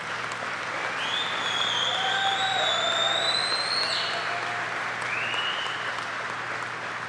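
An audience applauds a pastor at a Ford plant event in Louisville, steady sustained clapping filling the room at a moderate level, with a few whistles gliding above it.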